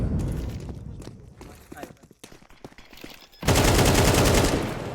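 Rapid gunfire and scattered shots with footsteps, then a loud sustained burst of automatic fire, all under an excited commentator's voice, from a Counter-Strike 2 tournament match.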